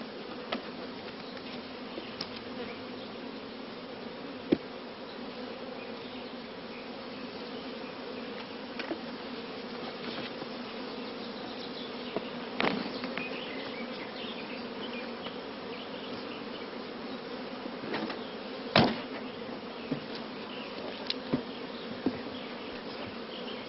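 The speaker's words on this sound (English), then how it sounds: "All flying bees will return to the familiar original hive entrance" Honey bees hum steadily around a hive during queen rearing colony work, a continuous dense buzz with occasional louder passes close by.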